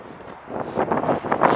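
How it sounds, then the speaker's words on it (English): Gusty winter wind in Toronto buffets the microphone, rising in rough rushing swells, close and fairly loud, with no one speaking. "It's windy."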